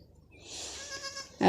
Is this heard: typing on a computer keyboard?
no